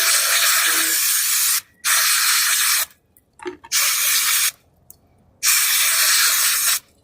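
A can of brake cleaner sprays in four loud, close hissing bursts of about one to two seconds each, separated by short pauses with faint clicks.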